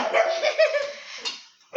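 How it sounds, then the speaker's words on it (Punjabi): A dog gives a few quick, yelping barks close by, a short burst and then one more sharp bark after a brief pause. "ਕਾਦੇ ਭੌਂਕ ਰਿਹਾ ਹੈ ਤੈਨੂੰ ਕੋਈ ਦਿਖ ਰਿਹਾ ਹੈ"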